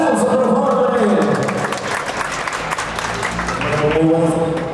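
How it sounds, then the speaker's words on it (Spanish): Crowd applause for Cristian López at a 50th birthday celebration in Huancayo, a dense, steady patter of many hands lasting several seconds, with voices rising faintly through it near the start and end. "Los aplausos, por favor, para él."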